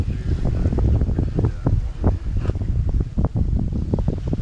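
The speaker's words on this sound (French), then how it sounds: "comme vous pouvez l'entendre certainement au niveau du son, on a un peu de vent" Strong wind buffeting the microphone aboard a sailboat at sea in autumn, a constant low roar with gusts and knocks of water and rigging, no voices.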